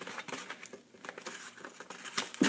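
Packaging for a clock kit being torn and crinkled open up close, a busy run of rustling, ripping and crackling bursts with a louder rip at the end.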